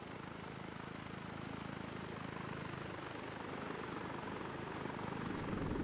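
Helicopter rotor and turbine noise from Arma 3 as the aircraft performs a quick stop, a steady broadband whir and thump that swells louder near the end, heard alone without talk.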